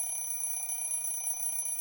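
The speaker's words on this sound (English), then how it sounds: "Just an alarm" An alarm rings in a video game, a steady high electronic tone with several sustained pitches, moderately quiet and continuous with no talking.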